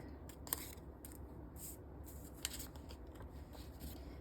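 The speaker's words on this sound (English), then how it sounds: "So I'm gonna cut from the side seam to the center." Scissors snipping through a paper pattern for a knit top: quiet, close, repeated crisp cuts in an uneven rhythm, with a couple of sharper snips standing out above a low room hum.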